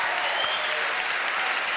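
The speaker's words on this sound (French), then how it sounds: "Céline, applaudissements pour elle." Dense, steady applause from a TV studio audience on a French variety show, a continuous wash of many hands clapping at even loudness throughout, with no voices standing out.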